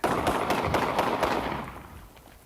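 Rapid gunshots crack in a quick string on police body camera footage, loud and echoing before fading out over about two seconds.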